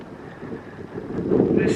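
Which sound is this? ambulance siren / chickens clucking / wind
wind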